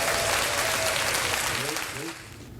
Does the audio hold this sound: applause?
yes